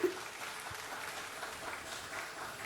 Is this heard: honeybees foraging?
no